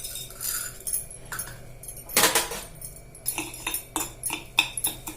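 Urad dal dropped into heated groundnut oil in a pan, producing scattered sharp crackles and clinking pops in uneven bursts, one louder burst midway, close and fairly quiet.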